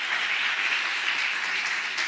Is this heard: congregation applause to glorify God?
yes